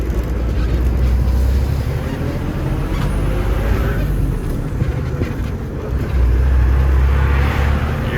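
A Ford L9000 truck rolls along under power, a loud, continuous low engine and road rumble with rattles and whooshes swelling toward the end; no voices.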